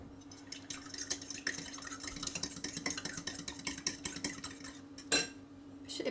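A spoon stirs a tablespoon of olive oil into homemade pasta dough ingredients in a bowl, giving close, continuous soft scraping and clinking through the whole stretch, with one sharper knock near the end.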